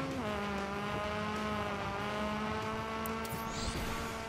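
Race cars in a realistic racing video game, a sustained engine tone that rises and settles in pitch, with faint passing noise near the end and no talking.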